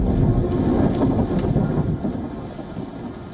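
Heavy rain and strong wind from Storm Isha battering the UK, a dense, steady roar of downpour with gusty rumble, loud and close, easing slightly toward the end, no voices.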